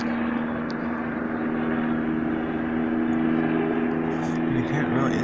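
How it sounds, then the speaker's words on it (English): A helicopter passes overhead at a distance, a steady droning engine hum with tonal whine running continuously at moderate loudness. "I don't know what kind of copter it is, but I'm trying to get it close up."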